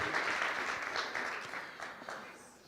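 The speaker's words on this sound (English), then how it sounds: "One more time, a round of applause, ladies and gentlemen" An audience at a township business workshop in Galeshewe applauds, a moderate, steady patter of clapping that slowly fades over a few seconds.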